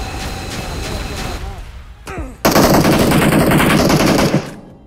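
Rapid automatic gunfire in a battle royale mobile game, with loud close bursts, a sharp single shot, then a dense sustained volley before it cuts off.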